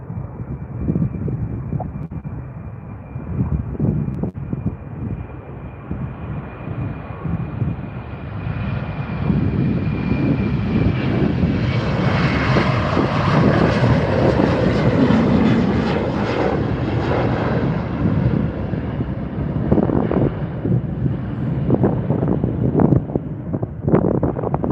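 Boeing 737 airliner climbing away after takeoff from Calgary Airport, a steady loud jet engine roar that swells and fades over about 25 seconds, with wind noise buffeting the microphone throughout.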